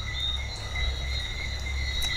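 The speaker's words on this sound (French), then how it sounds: "tous ces bruits environnants, les grenouilles, les oiseaux" Night insects chirr steadily outdoors in Martinique, with two sustained high cricket-like tones over a low rumble; no frogs or birds stand out, and the chorus stays continuous and moderately loud with no talking.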